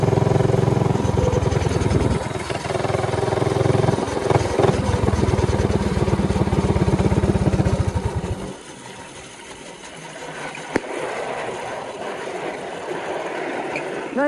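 A minibike engine cranks on electric start and runs with a loud, rapid buzzing putter up close, then cuts out abruptly, leaving quieter outdoor ambience with a brief sharp knock.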